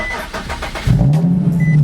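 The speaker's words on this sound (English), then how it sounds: "There's a bunch of cars going by, and I really just don't like that." A car engine rumbles loudly nearby and a low drone rises and holds steady as cars pass close on a road.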